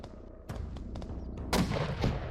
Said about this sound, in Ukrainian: РПГ, будь ласка, заряджаємо. Пішло в РПГ.